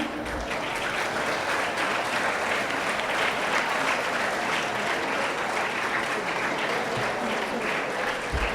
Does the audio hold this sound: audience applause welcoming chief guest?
yes